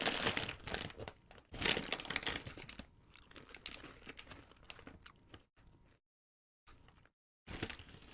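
Snack packaging crinkles and rustles loudly at close range in several bursts, with crunchy handling noises and short silent gaps, no voices.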